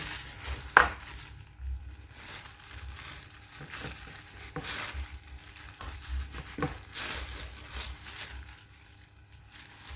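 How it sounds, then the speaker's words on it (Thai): Knife cutting chilled turnip cake into pieces, with a few soft irregular chops and scrapes on a board alongside light kitchen handling noise, fairly quiet with no talk. "ทีนี้เราก็ตัดแบ่งมาค่ะ หั่นชิ้นตามชอบนะคะ"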